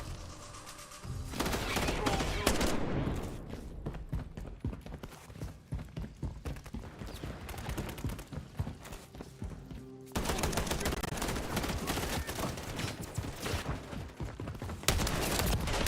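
Call of Duty: Modern Warfare III multiplayer gunfire crackles in dense, rapid bursts and volleys almost without pause, loud and close, growing heavier partway through.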